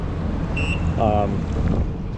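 A 2025 Yamaha FX SVHO Stage 1+ personal watercraft on a speed run, heard as a loud steady rumble of engine and water under heavy wind buffeting on the microphone, with brief faint tonal whines from the engine.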